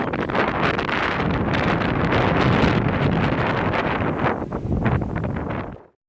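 Strong wind after Hurricane Irma buffets the microphone with a loud, continuous rumbling roar, then cuts off abruptly.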